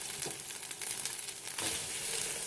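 Green beans frying in a pan with garlic and lemon zest, a steady soft sizzle with faint crackles and stirring scrapes, quiet and close, with no talk.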